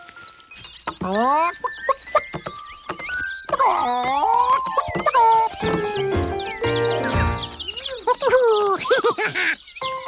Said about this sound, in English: Tracy the hen, and her 6 chicks.